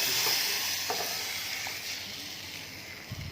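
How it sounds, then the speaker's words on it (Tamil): Kerala-style tempering of shallots, mustard seeds, curry leaves, fenugreek and tomato in hot oil gives a steady, bright frying hiss with a few soft stirring knocks, and no talk. "சின்ன வெங்காயம், கடுகு, கருவேப்பிலை, வெந்தயம், தக்காளி எல்லாம் போட்டு தாளிக்கிறேன்"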